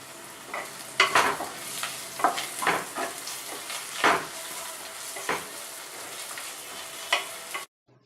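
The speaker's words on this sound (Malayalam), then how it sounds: "വെളുത്തുള്ളിയുടെ പച്ചമണം മാറുന്ന വരെ നന്നായിട്ട് വഴറ്റാം" Garlic sautéing in a pan for a Kerala-style pork roast, a soft continuous sizzle broken by repeated scraping strokes and clinks of the spoon against the pan, close and without speech.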